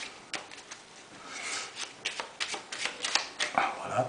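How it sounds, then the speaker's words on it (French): A deck of playing cards shuffled by hand, giving a run of close, crisp riffling bursts that grow denser and louder toward the end, with no talking over them. "On va le mélanger un petit peu."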